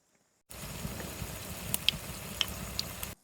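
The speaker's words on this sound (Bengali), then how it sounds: "এবার ঢাড়সের চপগুনা উল্টি পাল্টি নেড়ে চেড়ে মচমচ করে ভেজে নেবো।" Okra fritters being turned and fried crisp in hot oil, giving a steady close sizzle with a few sharp pops and crackles.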